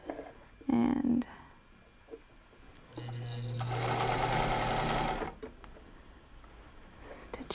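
A sewing machine runs for about two seconds of fast, steady stitching, loud and close, with quieter handling sounds and a voice speaking before and after.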